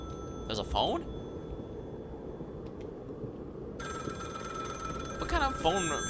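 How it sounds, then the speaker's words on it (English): A telephone rings inside a cabin in the horror game The Cabin Factory, a repeating electronic trill in two bursts with a steady tone between, while a person talks nearby. "There's a phone?"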